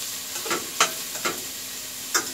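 Garlic sautés in a pan with a steady soft sizzle. Several scraping stirs of a utensil break through at irregular intervals, close and fairly quiet, with no talking.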